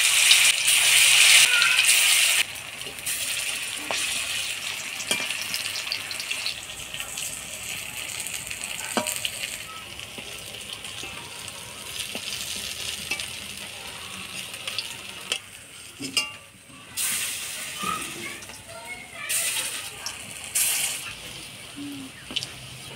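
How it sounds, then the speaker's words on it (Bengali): Banana flower koftas frying in hot oil, a continuous crackling sizzle with bursts of loud hiss early on and intermittent stirring clatter throughout. "এবার কোপ্তাগুলা ভাজি নিব।"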